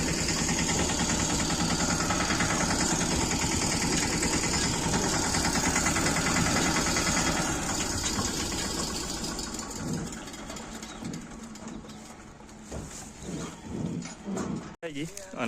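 A tractor engine running on a national highway, a loud continuous mid-pitched drone with a knocking vibration that eases off toward the end, while voices talk over it.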